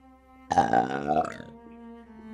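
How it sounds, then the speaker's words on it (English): A single loud, drawn-out belch from a drunk woman, rising abruptly and rumbling for about a second before trailing off into quiet. "She lets out a massive belch."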